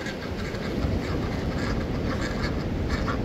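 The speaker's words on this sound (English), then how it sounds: "Come on, ducklings!" Silver Appleyard ducklings quacking on a windy morning, a dense, continuous chorus of overlapping quacks close by, steady and loud over three seconds with wind noise underneath.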